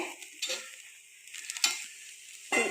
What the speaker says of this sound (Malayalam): നമ്മുടെ പഴം തിരിച്ചു മറിച്ചിട്ട് വേവിച്ചു കൊടുക്കാം